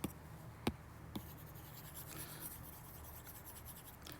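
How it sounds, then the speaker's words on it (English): Writing is erased from a board in a philosophy lecture, producing soft, steady rubbing and scraping with a few sharp knocks, close and quiet. "Let me erase some of this."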